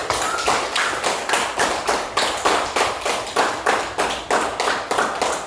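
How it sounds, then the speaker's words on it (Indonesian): Children in a classroom clap their hands together in a steady rhythmic pattern of sharp, repeated beats, close and loud, with no talking over it. "Tepuk tangan."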